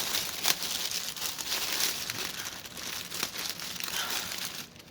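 Plastic packaging from a pre-stamped cross stitch kit crinkles steadily as it is pulled open, a close, continuous rustle with brief crackling bursts and no talking.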